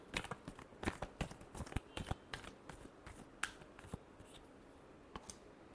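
A deck of tarot cards is shuffled by hand, a quiet close series of quick riffling snaps and flicks in uneven bursts, fading toward the end with no talk.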